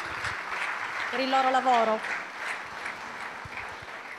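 A crowd applauds the jury members at the Premio Navicella Sardegna 2011 awards ceremony, with steady clapping running under a man's brief speech.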